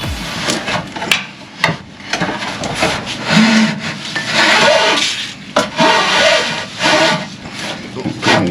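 Crowbars prying at an Artec skid plate under a diesel Jeep Gladiator JT: close scraping, grinding metal rubs and sharp clanks in an uneven rhythm, with people talking faintly around the work.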